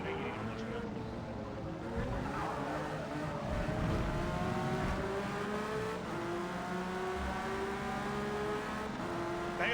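A 570-horsepower race car engine in the Forza Motorsport racing game holds a steady, rising and falling drone with shifting pitch through the whole stretch, while a player talks over it.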